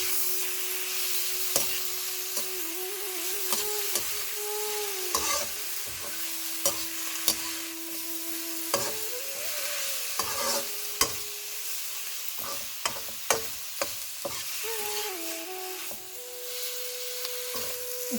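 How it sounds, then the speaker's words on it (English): Vegetables and tomatoes being stirred in a sizzling pan for curry noodles, with a steady fry hiss broken by repeated scraping stir strokes and a few sharp utensil knocks near the end. "give it another stir."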